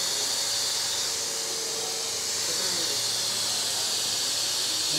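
Onions dropped into hot oil with whole garam masala spices for Lahori siri paya, a loud, steady close-up sizzle and hiss that holds evenly throughout.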